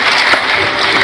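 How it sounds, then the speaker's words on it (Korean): Applause from the audience at a Korean awards ceremony marking the 100th anniversary of the March 1st independence movement in Chungcheongbuk-do, a dense steady wash of clapping, loud and close throughout. "여러분들 박수 부탁드립니다."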